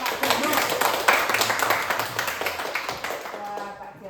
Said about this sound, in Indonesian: Tepuk tangan dulu untuk Pak Jamal